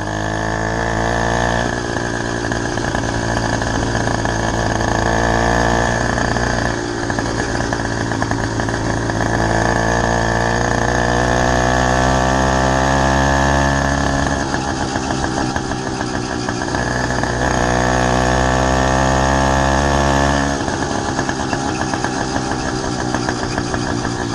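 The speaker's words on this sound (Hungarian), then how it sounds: "itt azt jelenti, hogy alapjáratban van." A Chinese moped engine idles steadily for the whole stretch, loud and close. It keeps a buzzing, harmonic-rich running tone with small rises and dips in the revs, and no one talks over it.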